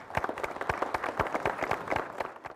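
An audience at a panel discussion on higher education applauds to welcome the panelists, with a brisk run of dense, close hand claps that holds steady for a couple of seconds and then tapers off.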